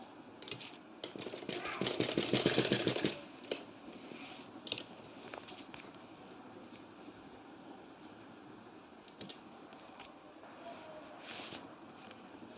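A sewing machine stitches a kurti collar in one short, quiet burst of rapid, even stitching, followed by scattered faint clicks and handling noises.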